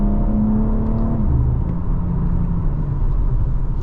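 A 2022 BMW M4 Competition coupe with over 500 horsepower drives and accelerates on the highway, a loud, steady engine drone and road rumble heard from inside the car, the pitch dropping as it shifts gear.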